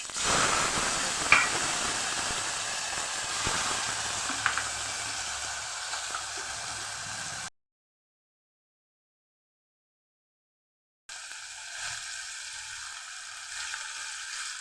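Cauliflower and potato pieces hit hot oil tempered with cumin, mustard seeds and asafoetida and sizzle loudly with a steady frying hiss, then a pause, then a quieter, continued sizzle.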